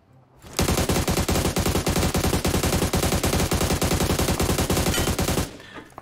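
Sustained automatic gunfire from a weapon in the mobile battle royale game PUBG Mobile, a rapid, steady burst of loud shots lasting about five seconds, then cutting off abruptly.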